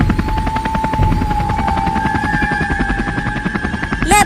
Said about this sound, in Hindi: मुझे हेलीकॉप्टर को उड़ाना आता है।